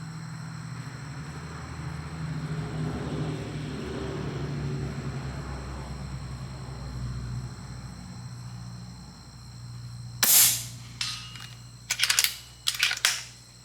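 Macavity Arms MA3 rifle fired at a target 117 yards away, one sharp loud shot followed by a couple more short bursts of sound, after a quiet stretch of outdoor ambience.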